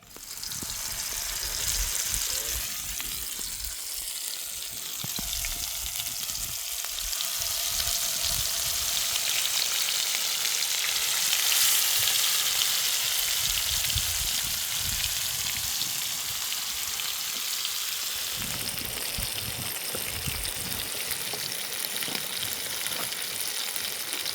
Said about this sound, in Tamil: இப்போ அடுத்து என்ன போட போகிறோன்னு பார்த்தீங்கன்னா நம்மளுடைய லவ்லி மட்டனை இறக்க போகிறோம் உள்ள